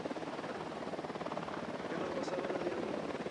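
A helicopter approaches in the video game Ghost Recon Wildlands, a continuous rotor thrum with fast regular chopping that grows slightly louder toward the end, filling the scene with no speech.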